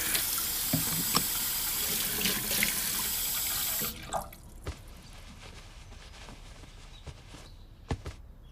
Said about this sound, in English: Okay, Sally, it's very important to wash your hands before you cook to make sure they're nice and clean